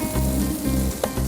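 Vegetables for pineapple fried rice sauté in a pan, a brief, loud, dense sizzle heard close up and without talk.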